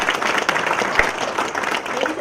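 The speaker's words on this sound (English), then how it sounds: "Can we have a round of applause?" A round of applause from the audience at a National Export Strategy Lab open day, steady dense clapping filling the room for a couple of seconds.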